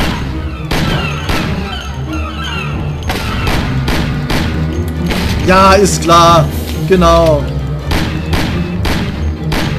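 Repeated gunshots and impacts ring out in the crime action video game Mafia, sharp bursts scattered through the clip alongside mechanical clicks, while a German-speaking player talks briefly over the game sound.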